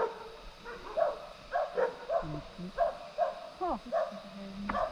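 Several dogs bark and yip in short bursts in Taiwan, fairly close, with a few whiny, rising yelps mixed in.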